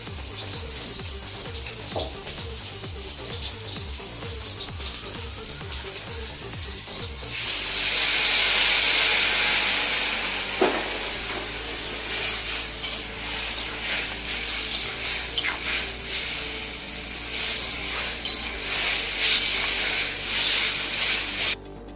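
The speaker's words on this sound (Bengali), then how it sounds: "এদিকে সরষেটা বেটে নিতে একটু জল দিয়ে দিচ্ছি" Water runs from a tap or is poured steadily into a bowl of mustard seeds for grinding in a home kitchen, a loud continuous rushing hiss that follows a stretch of softer rhythmic kitchen clatter.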